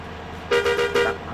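A bus horn on an intercity run in Indonesia gives a few loud, close toots in quick succession, each short, with engine rumble underneath.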